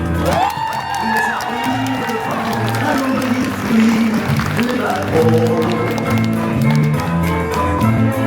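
Crowd at a dance centre's 40th anniversary show clapping and cheering, a dense continuous wash of applause with whoops, with music and a voice running underneath.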